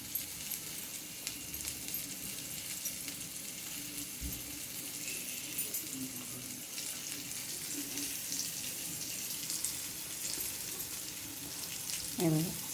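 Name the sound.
rava-coated prawns frying in a pan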